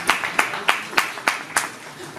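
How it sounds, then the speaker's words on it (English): Applause from an audience at a festival announcement event in Mumbai, heard as a short run of sharp, evenly spaced claps, about six in quick succession, fairly close and moderately loud with no other sound. "Huge round of applause, please."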